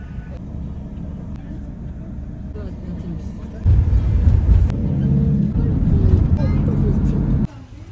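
Steady low engine rumble of a boat travelling to Bocas del Toro, Panama, growing louder and heavier midway through, with faint voices in the background.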